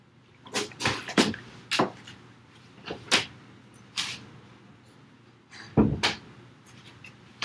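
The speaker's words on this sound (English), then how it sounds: "Now my dog is scratching at the door." A dog scratches at a door indoors, sharp scraping bursts in irregular clusters, some doubled, separated by short quiet gaps, close and moderately loud.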